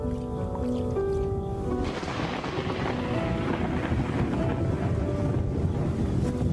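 Strong gusting wind in a thunderstorm over lion country, a dense continuous roar buffeting close and loud, rising after a quieter start with a faint soft tone underneath.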